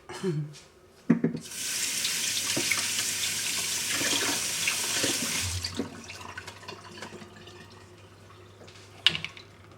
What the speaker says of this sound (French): Donc on rince.